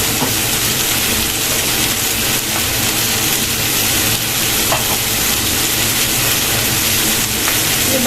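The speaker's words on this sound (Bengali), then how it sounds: "হালকা আঁচ করে ভাজবো।" Chili chicken fries in a pan over low heat, giving a steady, close, loud sizzle that never stops, with faint scrapes and taps from stirring.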